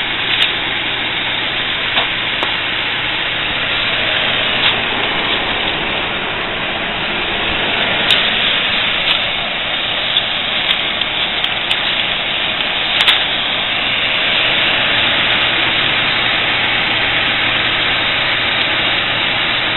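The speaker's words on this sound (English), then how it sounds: "4 cylinders, 16 valves worth of Toyota pulling power" A Toyota four-cylinder, 16-valve engine runs at a steady idle for the whole stretch, a close, constant drone with no talking.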